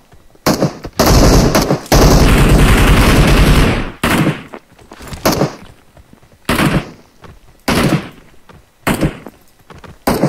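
Gunfire in PUBG Mobile: a long, loud sustained automatic burst, then several shorter separate volleys spaced a second or two apart, all close and booming.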